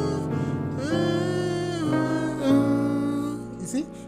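A piano plays a short chord progression including a diminished passing chord, several sustained chords struck in sequence at moderate volume, with bright harmonics and a soft close.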